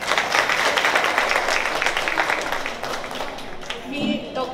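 Applause from an audience at a Navratri honouring ceremony, a moderate patter of many hands that thins out toward the end, with voices talking over it.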